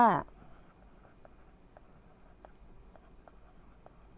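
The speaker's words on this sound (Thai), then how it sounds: "คุณครูเขียนต่อ" A teacher writes on a board with a series of faint, evenly spaced tapping strokes after a brief opening noise, in an otherwise quiet room.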